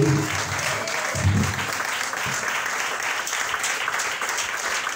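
A church congregation clapping and cheering in praise, steady continuous applause filling the room, with a few voices calling out at the start.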